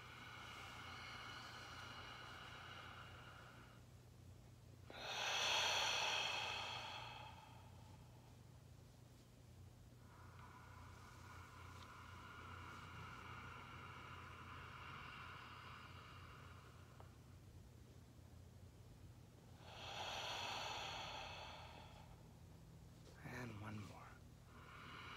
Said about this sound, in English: Now let's just take three breaths, nice and easy.